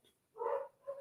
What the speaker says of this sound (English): I'm so sorry about my dogs barking.